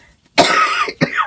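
An older woman with a cold coughs twice, close and loud: a long harsh cough followed by a shorter one.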